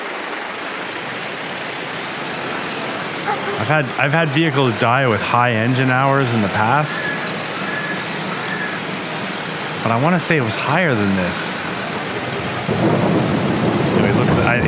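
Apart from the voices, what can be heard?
rain in a farming video game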